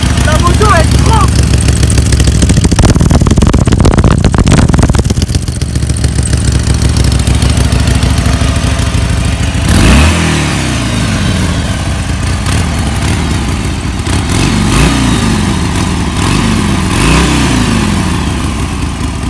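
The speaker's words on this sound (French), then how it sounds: "c'est l'avantage de Harley, c'est que vraiment ça fait beaucoup de bruit" A loud Harley-Davidson motorcycle engine rumbles and revs throughout, with deep throbbing pulses and rising surges, while voices talk over it.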